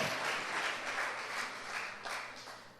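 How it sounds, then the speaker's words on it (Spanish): A church congregation claps during a sermon. The applause is moderately soft and steady, rising and falling slightly over about three seconds, with no talking over it. "Mándale un fuerte aplauso al Señor."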